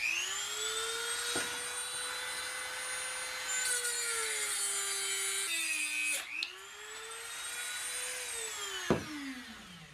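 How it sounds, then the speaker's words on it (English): A Dremel rotary tool works over zinc cast Star Trek comm badges, its steady high whine rising and dipping in pitch as the bit loads against the metal, with a couple of brief grinding bursts and nobody talking. "the Dremel's starting to freak me out a little bit too"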